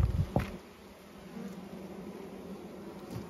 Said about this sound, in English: Wow, look at the bees in there, man.